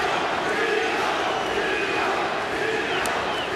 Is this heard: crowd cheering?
yes